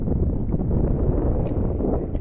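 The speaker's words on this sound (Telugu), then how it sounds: "అండ్ ఇక్కడ గాలి ఎక్కువగా ఉంది" Strong wind at the India-Pakistan border near Jaisalmer buffets the microphone with a loud, continuous low rumble and roar throughout.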